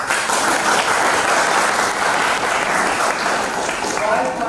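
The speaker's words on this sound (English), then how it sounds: "Let's do an applause." Audience applause during a school English-day presentation, loud, dense clapping that holds steady throughout, with a faint murmur of voices mixed in.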